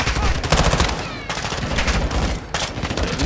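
Heavy automatic and rifle gunfire from a Call of Duty Modern Warfare II prison break mission, loud and near, with dense overlapping bursts and a few brief gaps, continuing through the clip.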